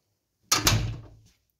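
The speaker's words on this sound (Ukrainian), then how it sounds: "Надо закрити двері, щоб ти подумав." A door at a house shuts with a single close thud, quick and fairly near, its knock fading over about a second against silence.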